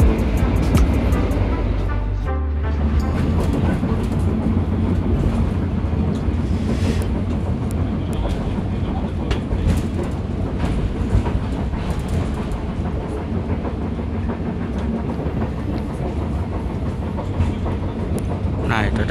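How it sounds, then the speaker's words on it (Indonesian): A Tegal Bahari passenger train runs steadily on rails near Cikampek station, a continuous loud rumble with rhythmic clickety-clack from the wheels, the noise staying dense and close from start to finish. "itu tadi kereta api Tegal Bahari sudah melintas stasiun Cikampek"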